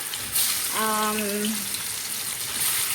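Fish frying in oil, a soft continuous sizzle running the whole time, with a brief tonal squeak partway through.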